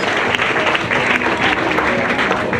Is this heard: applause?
yes